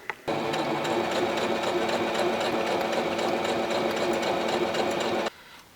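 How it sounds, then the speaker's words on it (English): A sewing machine runs a continuous stitch along the top seam of a satchel handbag, humming and rattling steadily and loudly up close for about five seconds before stopping abruptly. "Then I'm just going to sew along the top seam with a 1/4 seam allowance."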